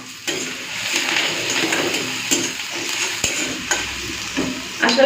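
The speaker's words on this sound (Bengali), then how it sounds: "এখন দিয়ে দিচ্ছি পেঁয়াজ কুচি।" Chopped onion dropped into hot mustard oil, frying with a bright continuous sizzle, punctuated by clinks and scrapes of a stirring utensil against the pan.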